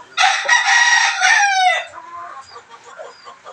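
A chicken rooster crows loudly and close up, one long strong call lasting about a second and a half, then trailing off into faint clucks and soft background noise.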